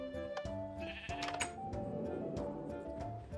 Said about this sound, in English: Full-fledged farm with a black sheep and everything.